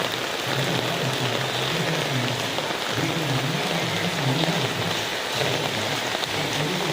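Steady heavy rain pours down outdoors during a storm with a red alert, with flooding starting around a shop, a continuous dense hiss of drops hitting surfaces throughout, loud and close, with no voices.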